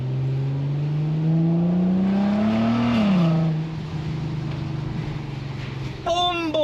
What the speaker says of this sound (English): You got the exhaust blaring away and then you change gear.